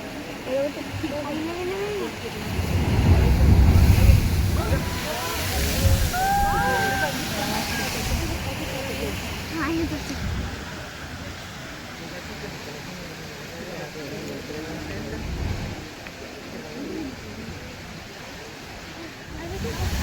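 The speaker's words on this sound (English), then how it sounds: "Kind of mesmerizing looking at the waves coming into the blowhole." Ocean waves surge and slosh into the La Bufadora blowhole near Ensenada, Mexico, a steady, rushing roar of churning water with louder swells rising and falling, and people talking nearby.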